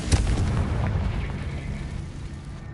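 A Confringo blasting spell in Hogwarts Legacy erupts in a loud, deep explosive blast that rumbles and slowly fades over a few seconds, with no talking.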